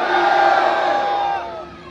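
A large crowd of devotees shouts a loud, sustained chant of praise to Khatu Shyam at a religious festival, voices swelling together and then trailing off toward the end.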